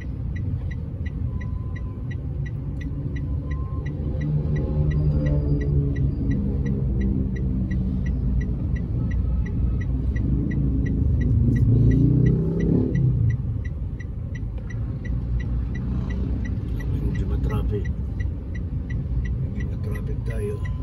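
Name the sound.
cars in heavy road traffic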